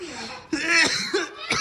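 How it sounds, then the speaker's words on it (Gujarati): A person coughs several times in quick, harsh bursts at close range, mixed with voiced sounds that may be laughter or talk. "તો તમે જોવો ને ભાઈ આટલી ઉધરસ થઈ ગઈ"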